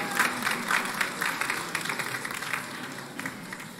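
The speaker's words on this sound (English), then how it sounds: "let's give him a round of applause" A crowd applauds at a church-style anniversary concert, with a dense, steady patter of clapping in a reverberant hall that holds level for a few seconds.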